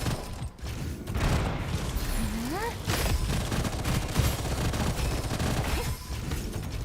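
Rapid gunfire in a video game, dense bursts of shots under a busy mix of game effects and music, loud and continuous with a brief rising tone in the middle.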